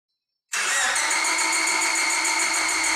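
A car engine cranks during a relative compression test, two exhaust valves too tight. After half a second of silence the loud, steady whirring cranking starts abruptly and holds to the end.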